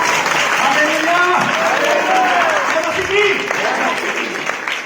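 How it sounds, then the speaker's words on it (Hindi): A church congregation at a Sunday Hindi service claps loudly and continuously, a thick, steady wave of applause with voices calling out over it. "जोरदार ताली बजाइए"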